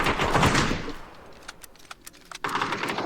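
Gunfire from the video game PUBG comes as a loud burst of rapid shots at the start, then sparse sharp cracks, and a new round of firing near the end.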